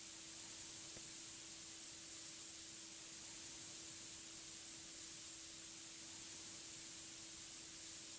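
Paint spraying in the Car Dealer Simulator video game, a steady even hiss that holds continuously without breaks, with a faint tonal hum underneath and no talking.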